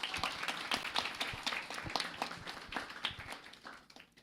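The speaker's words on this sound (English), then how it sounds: "A short round of applause for them." Applause at the Endo Warriors Unite event, a short round of clapping from a seated audience for the speakers, steady and fairly soft with distinct claps standing out, fading near the end.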